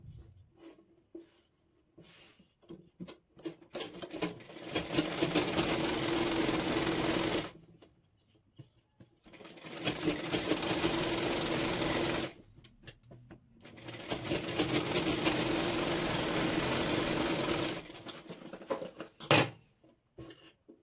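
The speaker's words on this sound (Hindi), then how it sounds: "तो उसके लिए पहले हमें यहाँ पे एक सिलाई लगा लेनी है ताकि फैब्रिक का पता रहे।" An electric sewing machine stitches blouse fabric in three long continuous runs, each a few seconds, separated by pauses with light handling noises, close and loud with no talking.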